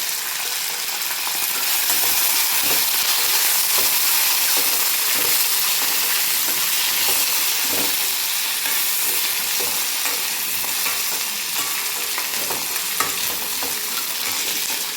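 Curry leaves with green and dried red chillies crackle in hot oil for raw mango pulihora, a loud, busy sizzle with spatters and stirring scrapes running steadily near the pan, with nobody talking.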